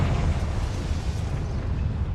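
Confringo spell explosion in Hogwarts Legacy, a deep rumbling blast with heavy low-end roar that sustains briefly and tapers off.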